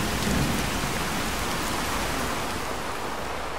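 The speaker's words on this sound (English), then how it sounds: "It lowers the sound and you get that rain on the roof sound." Steady rain drumming on a roof from indoors in Fallout 4 with the True Storms weather mod, a dense, even hiss that stays constant throughout with no voices.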